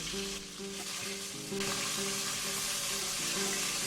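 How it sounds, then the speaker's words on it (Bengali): Hilsa fish frying in a pan is stirred and turned, a steady close sizzle of hot oil under a repeating tonal hum, with the frying growing a little louder partway through and no voices. "মাছটাকে এখন নেড়ে দিতে হবে।"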